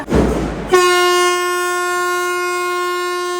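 A passenger train passes with a short burst of rumbling, then a loud, sustained, steady horn blast that holds evenly to the end.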